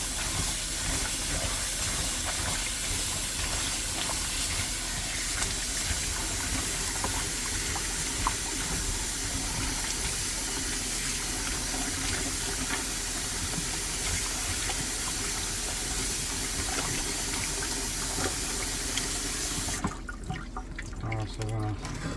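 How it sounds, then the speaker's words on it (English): Cut red and green peppers rinse under a steady stream of running water, a constant close hiss and splash that runs on evenly and cuts off near the end. "Now we're gonna just rinse them and wash them really good."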